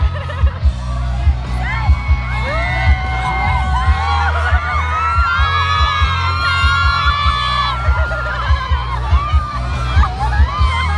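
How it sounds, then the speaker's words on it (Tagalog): Excited crowd at TFC Barrio Fiesta in Dubai, a Filipino fan event, cheering and shouting loudly and continuously, with high shrieks and whoops rising above a dense roar and thumping beats. "yung crowd, grabe"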